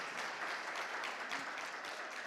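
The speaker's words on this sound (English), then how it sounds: "So let's have a round of applause for each and every person who has" Audience applause at the finals of a PSS and 3MT academic competition, honouring every participant; steady, dense clapping from a crowd sustained evenly for a couple of seconds.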